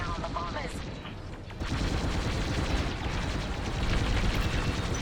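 Starfighter cannons firing in Star Wars: Squadrons, a continuous rapid stream of blaster shots over a roaring engine bed, loud and sustained throughout, with a brief radio voice near the start.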